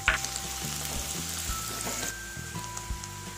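Garlic, ginger and onion frying in a pan for restaurant-style veg Manchurian, a close, constant sizzle with bursts of spattering and the clink and scrape of stirring, and no voices.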